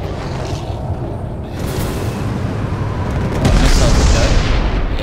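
Missiles launched at a Cutlass ship in the Star Citizen space combat game, a steady roaring rumble of engine and launch noise that swells into a louder, deeper boom near the end.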